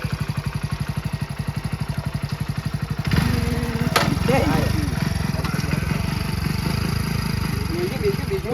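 A motorcycle engine turns over with rapid regular chugging, then catches and runs at a rougher, louder idle, close by, with people talking over it.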